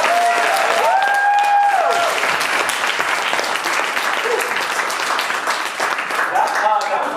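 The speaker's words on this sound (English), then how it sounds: "round of applause." A studio audience applauds at the end of a debate segment on a late-night election special, a loud, dense wash of clapping that holds steady throughout, with a faint voice and brief tones briefly audible over it.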